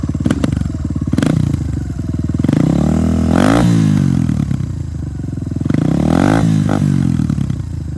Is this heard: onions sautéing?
no